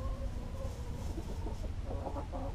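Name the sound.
buff hen clucking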